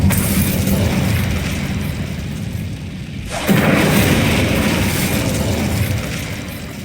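An Incendio fire spell in Hogwarts Legacy roars as a sustained, loud rumbling whoosh; it briefly thins midway, then surges back with a sharp swell and continues heavy and close.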